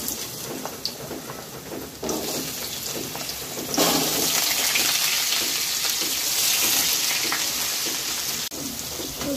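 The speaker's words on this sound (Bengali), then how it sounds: "ভেজে নেবো।" Potato pieces fry in hot oil with a steady, loud hiss and crackle that swells partway through and keeps going, close up and with no talking.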